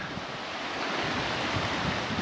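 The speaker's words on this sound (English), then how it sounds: "you can see the gusts of wind going across, and then we got major whitecapping" Strong gusting wind and breaking whitecap waves on Revelstoke Lake, a steady loud roar of surf and wind buffeting the microphone with no pause.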